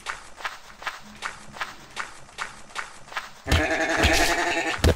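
Sheep bleating in the blocky sandbox game MineClone5 on Minetest, a run of short, regular calls over soft footsteps, then a louder, denser burst of game sound near the end.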